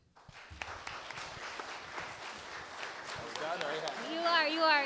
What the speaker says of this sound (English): If we could give these gentlemen a round of applause.